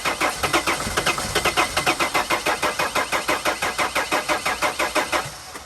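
A 2000-2006 Dodge Mercedes Sprinter T1N van's diesel engine cranks with a fast, even chugging starter rhythm of roughly two dozen pulses, loud and close, ending as the engine is about to catch.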